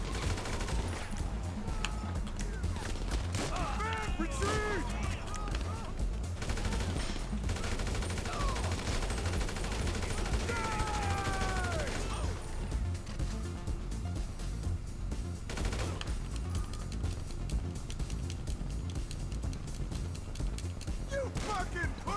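Gunfire in GTA V Online during the solo Cayo Perico heist, sustained automatic bursts and rapid fusillades under game music and occasional talk, fairly distant and steady throughout.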